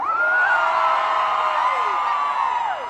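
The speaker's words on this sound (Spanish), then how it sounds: "quiero escuchar ese grito de la raza mexicana" A large concert crowd at a live Peso Pluma show yells and whoops together in a loud, sustained shout that swells and then tapers off over about three seconds.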